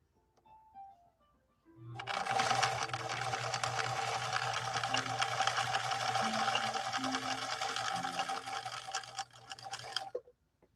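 A 1964 Viking Husqvarna 19E sewing machine stitching a 3-point zigzag runs in one steady, rapid whirring burst for about eight seconds, close and clear, preceded by a few soft handling clicks.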